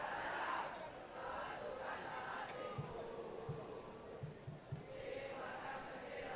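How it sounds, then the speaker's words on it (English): Spectators at a Pakistan versus Malaysia field hockey match in the Sultan of Johor Cup get excited, a rising crowd roar with shouts and a few dull thuds heard at a moderate distance. "Some of the crowd getting excited"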